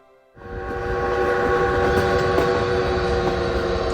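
A Great Smoky Mountains Railroad train rolls along in fall, its horn sounding in long sustained tones over a steady rumble and rattle of the cars, loud and close.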